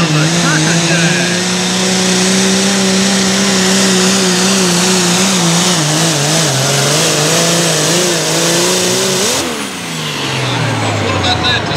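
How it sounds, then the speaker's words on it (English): A light limited super stock pulling tractor hauls a sled down the track at a Cloverdale, Alabama pull, its engine roaring loud and steady with shifting pitch, then dropping off sharply near the end as the run finishes. "What about that to start our light limited super stock tractor class?"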